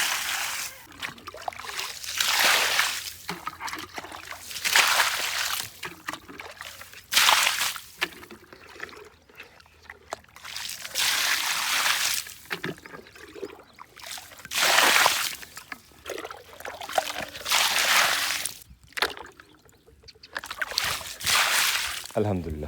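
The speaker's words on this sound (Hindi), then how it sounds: "पानी लगा लेते हैं पहले।" Water is poured over a garden bed where guava seeds are sprouting, giving repeated close splashing and sloshing surges with a person talking over the water.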